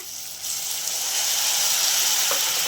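Onions with curry leaves, salt and homemade masala frying in a pan, giving a steady close sizzle that swells after a quieter start and holds continuously without talk.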